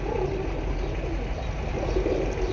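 Almond silver racing pigeons coo softly in low repeated phrases, heard close over a steady background hum with no talking.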